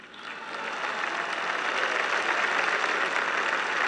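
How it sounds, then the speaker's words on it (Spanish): A huge crowd in Mexico City's Zócalo applauds during a presidential third-year report, a broad, roaring swell of clapping that builds from the start and holds steady and dense, distant-sounding and without distinct voices. "un aplauso"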